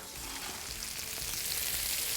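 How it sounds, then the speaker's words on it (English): Steady, even sizzling of vegetables roasting in a wood-fired oven, a continuous crackling hiss with no voices. "we can hear that it's got a great sizzle on those vegetables in the oven"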